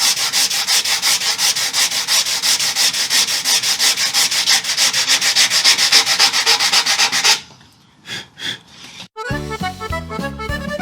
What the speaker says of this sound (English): take the smallest amount off each side by hand sanding